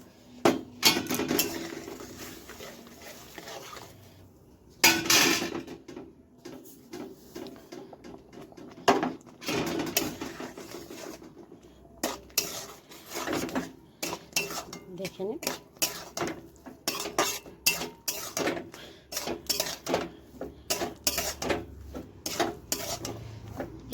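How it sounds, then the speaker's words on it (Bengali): A utensil scrapes and knocks against a pot as rice flour is stirred into hot salted water. The clatter and rubbing come in irregular bursts with short pauses, close and fairly clear. "এবার অল্প অল্প চালের গুঁড়ো দেবো আর মিশাতে থাকবো"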